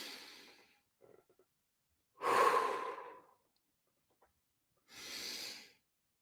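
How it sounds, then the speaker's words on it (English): Three slow, deep breaths, each a long airy exhale close to the mic, separated by quiet pauses. "We take deep breaths."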